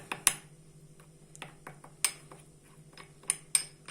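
A spoon stirs a mixture thoroughly in a bowl, giving sharp, irregular clinks and taps against the side, close and fairly quiet, with no one talking.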